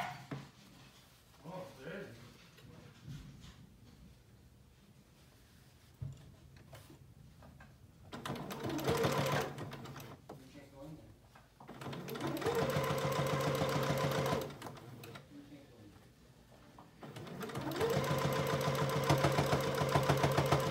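A sewing machine stitches a child's apron pocket closed in three bursts of steady mechanical whirring, each lasting a few seconds, with quieter pauses and handling clicks between them.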